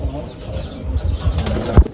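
Breeder pigeons coo softly nearby in a brief, low murmuring stretch, with a short thump near the end.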